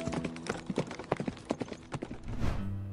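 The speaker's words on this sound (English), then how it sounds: "And with that, Caleb spurred the horse to run faster." Horse hooves pound in a fast, steady galloping rhythm, a clip-clop anime sound effect played fairly quietly, with a brief whoosh near the end.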